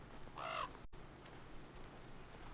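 A raven in theHunter: Call of the Wild gives a short, harsh caw, loud and close, over a low rustling wilderness ambience.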